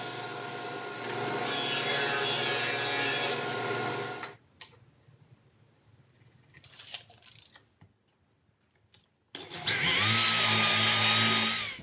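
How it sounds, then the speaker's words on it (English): A power drill bores a hole for a 1/4 inch jack in a Baltic birch back panel of a guitar speaker cabinet, with loud close bursts of whirring and grinding separated by quieter gaps of small handling noises. "we got the hole drilled for the 1/4 inch jack on the top back panel."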